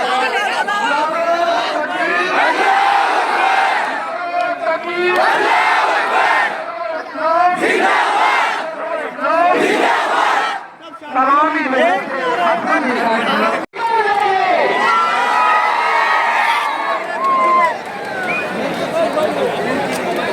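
A large protest crowd shouts and chants slogans while waving flags at a rally against a mosque attack in Dhule, loud and continuous, with several voices calling out over the din.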